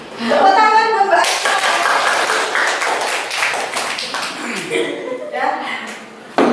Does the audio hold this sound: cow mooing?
no